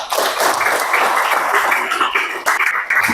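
Students and listeners at an Indonesian school presentation by a student teacher break into loud, continuous clapping. The dense wash of hands stays strong throughout, with a brief dip near the end.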